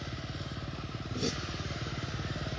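Motocross motorcycles run at a track during a performance show rather than a race, their engines making a steady, buzzing drone with a rapid pulsing throb that holds at a fairly even pitch.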